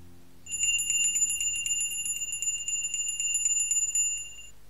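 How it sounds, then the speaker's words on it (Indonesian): A small bell rings rapidly and continuously for about four seconds, a bright trilling jingle with a steady rhythm, fairly close, in a quiet room. "Lonceng itu berbunyi."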